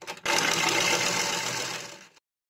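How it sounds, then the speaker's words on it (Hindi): A sewing machine runs in one continuous close burst of about two seconds, a dense, steady mechanical whir stitching folded cloth for a doormat, then stops abruptly into silence, with no talk. "अब हम इस पर सिलाई लगाएंगे।"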